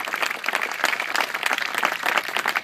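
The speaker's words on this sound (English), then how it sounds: "Let's give him a round of applause." An audience applauds Senator Keith Phillips at a public event in Piermont, New York: brief, dense clapping from a crowd, steady and fairly close.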